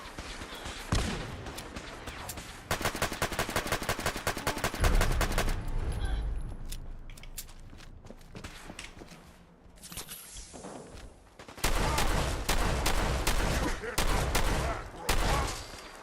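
Bursts of gunfire from the Fallout 4 video game, with rapid automatic volleys and single shots punctuating a busy battle, some stretches dense and loud, others quieter, with talk mixed in.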